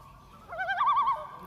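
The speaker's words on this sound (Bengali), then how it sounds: "এক এক পাখির আওয়াজ দেখুন এক এক ধরনের" A single bird lets out a short, warbling hooting call, close and clear, lasting under a second over a quiet background.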